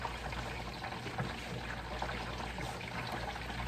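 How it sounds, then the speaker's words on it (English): Water is poured into a simmering sauce for plantain tacos with shrimp, making a faint, steady trickling pour alongside low kitchen bubbling. "To get a little bit more sauce, I'm going to add a little bit of water."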